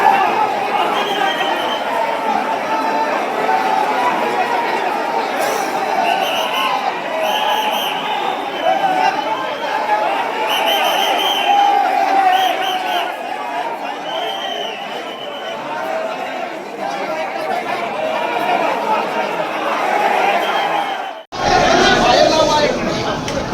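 A large crowd of Baramati residents gathered outside the police station keeps up a dense, loud, continuous chatter up close. The babble breaks off briefly near the end and then resumes.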